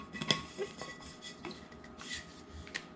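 A new plastic lid with a fixed agitator is fitted back onto an Ice shaker bottle cup, giving quiet, scattered clicks and light scraping over a few seconds with no talking.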